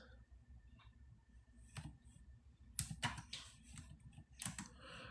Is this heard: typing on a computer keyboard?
yes